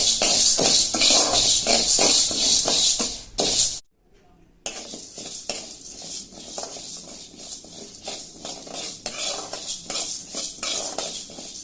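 Lentils dry-roast in a pan with no oil for a dal powder, heard as rapid, rhythmic scraping and rattling of stirring, close and fairly loud, with one short silent pause midway.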